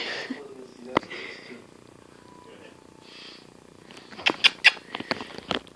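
A kitten purrs close by, a soft continuous rumble under short voice-like sounds, and a burst of sharper scratchy, rustling noises comes near the end.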